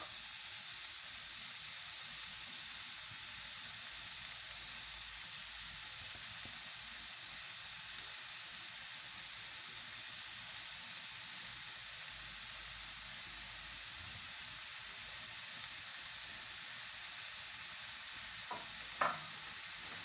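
Kefta (minced meat) sizzling in a pan, a steady, quiet frying hiss with a couple of brief stirring scrapes near the end.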